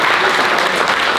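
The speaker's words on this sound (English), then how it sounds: "Let's give a round of applause for Mr. Hubner, okay?" Applause from an audience at a high school student athlete awards and collegiate signing ceremony, a loud, dense and continuous round of clapping with no voices over it.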